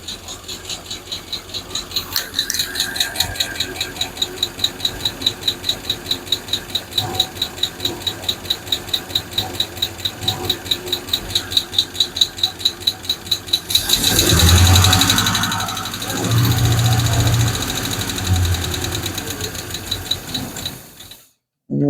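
A Hemi V8 in a Plymouth Duster idles with a rapid, even mechanical chatter and rhythmic pulsing, steady for most of the span before a louder rough surge and then cutting off near the end; a voice speaks briefly.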